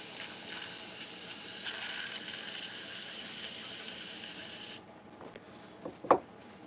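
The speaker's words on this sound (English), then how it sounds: "I think I sprayed some red on it." Airbrush spraying paint onto chainsaw-carved wooden figures, a steady close hiss lasting nearly five seconds that cuts off sharply, followed by a few faint taps and a brief clunk.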